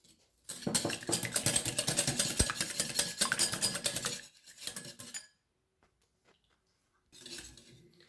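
Fondant au chocolat batter of eggs and sugar whisked in a bowl, a loud, fast metallic scraping and clinking for about four seconds, a brief second burst, silence, then another short spell of whisking.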